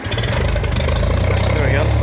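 An old Farmall 706 tractor engine cranks and catches, settling into a loud, rumbling, chugging run close by, with a voice speaking over it.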